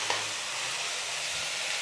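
Green peas and mixed vegetables sizzle steadily in hot oil while being stirred for semiya pulao, a close, continuous frying hiss.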